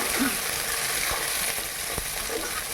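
Chicken chaap pieces frying in a pan with garlic, giving a steady, fairly loud sizzle with faint stirring scrapes and a couple of soft clinks.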